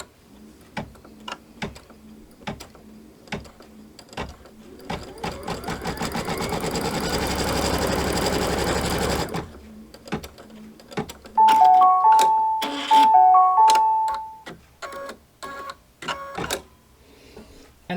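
A sewing machine stitches quilt fabric for a pinwheel quilt block pillow, starting and stopping in short ticking bursts, running steadily for several seconds, then mechanical clicks and tones from the machine, all close and clear without talk.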